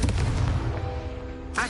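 Confringo fire spell blast in Hogwarts Legacy, a loud booming burst with a rumbling low-end tail and a sharp crackle near the end, heard alone without voices.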